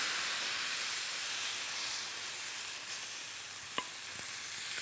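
A whole grouper and leeks sizzle in olive oil in a pan, giving a steady, moderately loud hiss with a couple of sharp clicks near the end.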